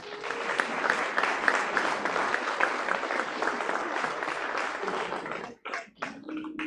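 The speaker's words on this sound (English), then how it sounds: "to give Professor Nkeruo Mudoka a round of applause" An audience breaks into sustained applause: many hands clap steadily and fairly loudly for over five seconds. The clapping briefly drops out, then scattered claps and a few voices follow.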